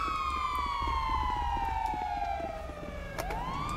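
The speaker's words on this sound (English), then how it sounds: "Who's got lights and sirens on?" An emergency vehicle siren in the FiveM roleplay video game, a loud wailing tone sweeping slowly downward, then snapping back upward near the end, with a low engine hum underneath.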